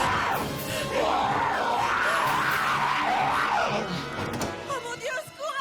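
A person screams in fear, a long, loud, wavering cry rising and falling over several seconds inside a dark room in a zombie beaver horror film, with a brief lower shout near the end.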